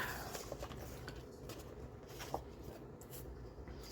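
Paper is cut for a handmade grungy folio, a faint, close scratchy scraping with a few soft ticks, heard alone in a quiet room.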